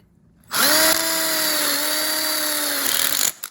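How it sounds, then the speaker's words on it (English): A cordless power drill whines steadily for about three seconds, its pitch dipping slightly under load, as it drives self-drilling hex head screws into 21 millimeter tubes for a DIY outdoor kitchen grill stand. "Those self-drilling hex head screws work great."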